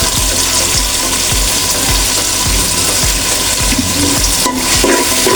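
Spices sizzle and fry in a hot pan while being stirred for bhuna khichuri, with garam masala powder added; a steady loud sizzle runs throughout, marked by regular scraping strokes of the spoon against the pan.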